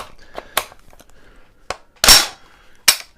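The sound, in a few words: pulling back the charging handle of a Brownells BRN-10A rifle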